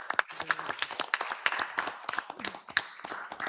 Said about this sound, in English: So let's get a round of applause for the Bar Meals Decommissioning Committees for Hollis and Buxton.